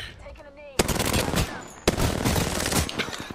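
Dense automatic gunfire in Apex Legends, heavy rapid bursts kicking in sharply and continuing loud and sustained with a second onslaught, while faint speech sits underneath.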